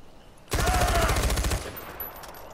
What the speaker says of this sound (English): Now use the gun.